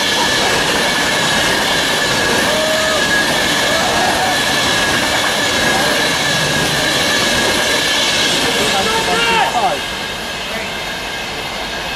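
Pendolino train rushing through Stafford station on the West Coast Main Line, a loud sustained roar of wheels and rails with squealing tones that eases near the end, with people talking nearby.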